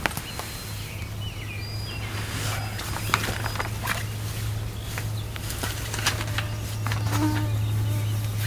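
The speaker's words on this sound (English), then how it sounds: "there's an alarming number of mosquitoes" Swarming mosquitoes indoors after a thunderstorm whine and buzz in overlapping passes near the ear, over a steady low hum and faint outdoor background.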